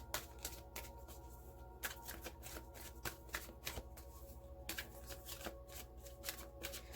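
A deck of Gateway Oracle cards being shuffled, a quiet run of soft riffling flicks and taps in an irregular rhythm, close by and alone with no talking.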